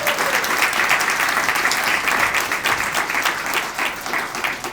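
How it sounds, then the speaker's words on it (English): A community State of the Community gathering gives a sustained round of loud, dense applause for local Jeopardy! contestants, continuous clapping from a sizeable audience with no talk over it. "Can I have one more round of applause for our participants?"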